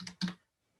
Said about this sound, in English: if you start typing it in, it's going to pop up and you'll just click on it right here